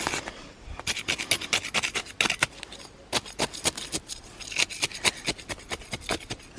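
A garden trowel digs big planting holes in soil, giving repeated gritty scraping and rasping strokes, close and fairly loud, in irregular bursts with brief pauses between them.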